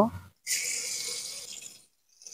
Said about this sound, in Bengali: তেলটা গরম হয়ে গেছে, প্রথমে আমি পেঁয়াজ বাটা দিয়ে দেব